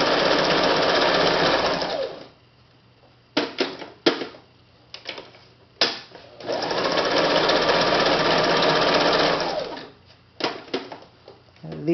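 Sewing machine stitching fabric for thread drawing a spider web, running in two long steady whirring bursts separated by short taps and clicks as the needle stops and the fabric turns, close and loud.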